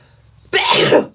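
A single sharp sneeze from a person with a cold, loud and close: a short rushing burst that ends abruptly.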